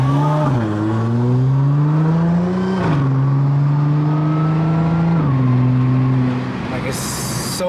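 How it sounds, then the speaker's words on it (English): An Audi S4 with a DSG gearbox accelerates hard in manual mode, its engine note climbing loudly and up close, then dropping sharply at each of three quick paddle-shifted gear changes, ending with a brief high whine. "the way these DSG shift is so crazy"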